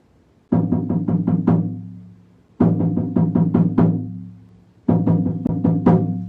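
A deep drum plays a faster shamanic journey beat, quick bursts of five or six rapid strikes, three flurries separated by short pauses, loud and close.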